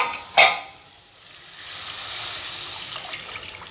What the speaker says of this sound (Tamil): இப்போ நம்ம தண்ணியை சேர்த்துடலாம்